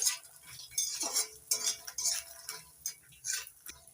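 Makhana (fox nuts) stirred and fried in a pan with a spatula: steady scraping and rattling of the light puffed seeds against metal in an uneven rhythm, close and unaccompanied by talk.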